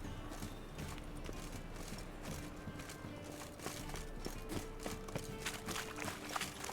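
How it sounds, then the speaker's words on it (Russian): Horse hooves clip-clop in the video game The Witcher 3: Wild Hunt, a steady run of soft repeated hoof taps under ambient game music and background atmosphere, moderately quiet throughout. "Где моя лошадка?"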